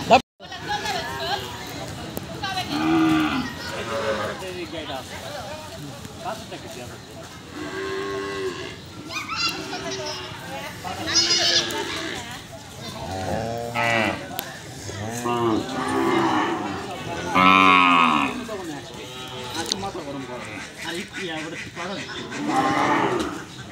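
Cattle moo repeatedly during vaccination at a veterinary hospital, loud and near, long drawn-out calls overlapping with a crowd of people talking and shouting throughout.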